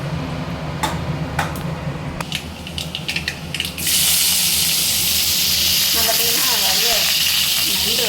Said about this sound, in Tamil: குழம்புக்கு வெந்தயம் ஒரு அரை வெந்தயம் கடுகு சோம்பு எல்லாமே நல்லா பொரியட்டும்